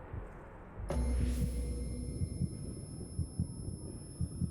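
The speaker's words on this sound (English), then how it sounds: "the heartbeat sound" A low, steady heartbeat pulse from the video game CrossCode, thudding in a regular rhythm over a droning background hum after a sudden onset.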